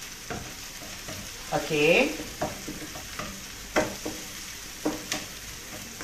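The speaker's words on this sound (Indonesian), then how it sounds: "Kita jangan tumis sampai hangus" Sea cucumber and mixed vegetables are stir-fried in a hot pan, with soft sizzling and repeated scraping and stirring strokes at close range, and a brief spoken word near the start.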